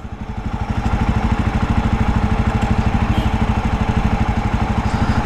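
A Jawa Perak motorcycle idles close by with a fast, even thumping beat that steadies after a brief rise and runs loud and unbroken, with no voices.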